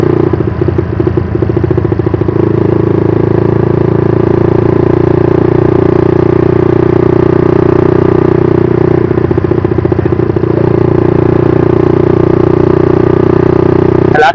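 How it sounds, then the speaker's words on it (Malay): A motorcycle engine runs steadily and close by in a village setting, a constant loud clattering drone with no pauses. "Motor aku bukan begitu kuat pun."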